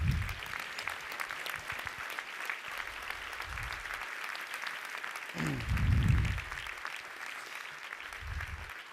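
An audience of fathers at a Father of the Year awards event applauds, a steady wash of clapping with a few louder low bursts, fairly close and continuous throughout.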